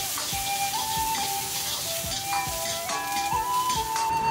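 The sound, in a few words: ginger and dried coriander frying in lard in a wok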